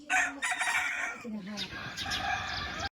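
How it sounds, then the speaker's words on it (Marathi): A rooster crows loudly nearby in a village at sunrise, one long drawn-out call followed by clucking from other fowl, with no talk. "मस्त असं कोंबड्याचं आरवण तुम्हाला या ठिकाणी ऐकू येईल."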